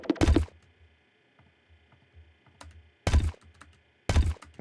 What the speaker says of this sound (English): got this cool node placement sound